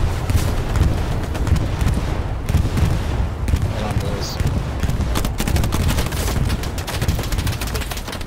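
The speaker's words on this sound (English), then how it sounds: "Bombing run coming in hot" A bombing run strikes a battlefield in the Hell Let Loose war game, making a loud, dense barrage of booming explosions that merge with rattling gunfire, continuous and heavy from start to finish.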